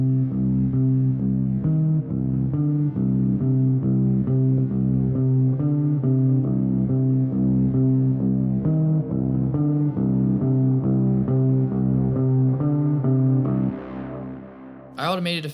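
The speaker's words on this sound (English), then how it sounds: "I have this dark guitar layer thing that I made." Dark, atmospheric electric guitar layer drenched in delay and reverb, repeating a moody low riff in a steady pulse at full level, then thinning out near the end as a brief bright burst cuts in.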